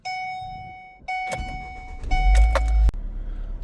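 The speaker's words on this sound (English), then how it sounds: "now you're gonna start the vehicle as you would start any vehicle." A manual-transmission car is started in neutral with the handbrake on: a steady dashboard chime rings, then the starter cranks and the engine catches with a short, loud low rumble before settling down. No one speaks.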